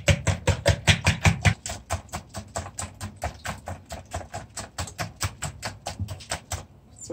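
Eggs beaten with a whisk in a bowl for a Jamaican Christmas sorrel fruit cake: a fast, steady stream of sharp tapping clicks, heavier at first and then lighter and even, close and alone with no talking.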